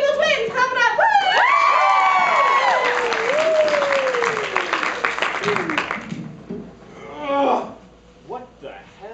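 A live comedy-show audience claps and cheers with whoops over a drawn-out musical or vocal sting, the crowd noise fading after about six seconds, followed by brief talk.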